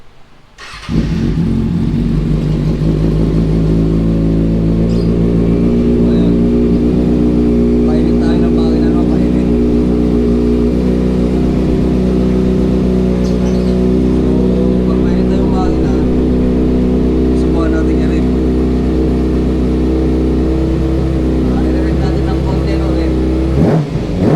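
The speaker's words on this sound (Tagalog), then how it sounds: "Papainitin natin yung makina, no?" A Kawasaki Ninja 400 motorcycle engine idles loudly and steadily after starting, warming up after an oil change, a constant close rumble with slight rises in revs throughout.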